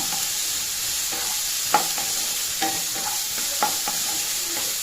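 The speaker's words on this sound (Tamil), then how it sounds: "வெங்காயத்தை நல்லா செவக்க வதக்கிக்கோங்க." Onions sautéing in a pan on high flame for capsicum thuvayal, a steady sizzle broken by a string of scraping stirs from a spoon, close and alone without voices.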